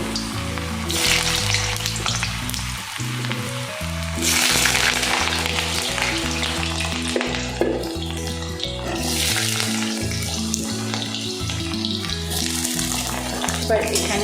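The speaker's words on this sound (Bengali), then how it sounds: "তেলটা গরম হলে এই তেলের মধ্যে আমি সয়াবিনের মধ্যে দেওয়া আলুগুলোকে ছেড়ে ভেজে নেব।" Potatoes sizzle and fry in hot oil in a pan for a soybean curry, a steady loud crackling hiss that swells at moments as they are stirred, with background music playing throughout.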